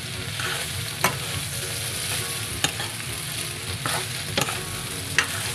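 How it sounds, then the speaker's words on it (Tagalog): Elbow macaroni stirred in a sizzling pan with sautéed ingredients for a chicken macaroni dish, a constant close frying hiss broken by occasional sharp scrapes and clinks of the utensil, no voices. "Now ilalagay ko na itong elbow macaroni. Hahaluin ko ng husto."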